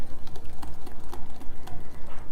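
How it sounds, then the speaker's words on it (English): Melted butter being whisked in a bowl, a rapid, even rhythm of light ticking strokes from the whisk, close and steady throughout. "I'm going to whisk that together"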